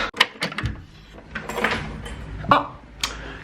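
A parcel pushed through a front door, with a few thumps, rustles and a scraping slide in quick succession, close by and indoors.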